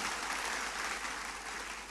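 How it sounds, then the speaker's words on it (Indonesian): Steady broadband clapping from a church congregation during a sermon, dense and continuous throughout without any talking. "Tepuk tangannya oleh yang paling meriah buat Tuhan."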